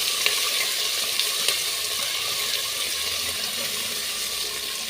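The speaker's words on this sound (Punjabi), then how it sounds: "ਹੁਣ ਆਪਾਂ ਪਾ ਦਾਂਗੇ ਜੀ ਲੰਬੇ ਲੰਬੇ ਕੱਟੇ ਹੋਏ ਪਿਆਜ਼ ਲਗਾਤਾਰ ਹਲਾਉਂਦੇ ਜੀ ਆਪਾਂ ਇਹਨਾਂ ਨੂੰ ਪਿਆਜ਼ਾਂ ਨੂੰ ਪਕਾ ਲਾਂਗੇ" Long-sliced onions sizzle steadily in a hot pan while being stirred continuously, a dense, even frying hiss with a few faint clicks of the utensil and no voices.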